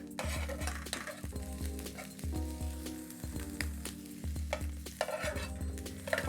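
Pan-fried tofu sizzles steadily in a hot pan while pieces are scraped and lifted out, with occasional clinks of utensil against pan and plate, close and continuous with no talk.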